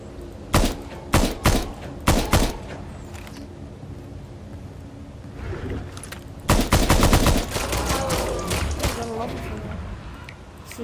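Gunshots in the survival game Nether: The Betrayal, a few sharp single shots early on, then a denser burst of rapid fire later, loud and close, with game ambience and a voice talking.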